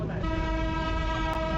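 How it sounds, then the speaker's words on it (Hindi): A sustained, steady horn tone from the Darjeeling toy train blares continuously, rich with harmonics and fairly loud, with a brief click near the end. "सिलीगुड़ी के मार्केट से धीरे धीरे ट्रेन हॉर्न देते हुए आगे बढ़ ही रही थी"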